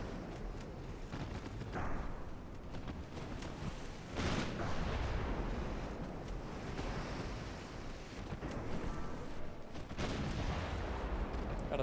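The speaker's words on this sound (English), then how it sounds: "Got a torpedo detonation." Naval battle sounds in the warship game Ultimate Admiral Dreadnoughts, with a torpedo detonating: a dense roaring wash like surf and wind, punctuated by heavy booming blasts, the loudest burst near the middle, no voices.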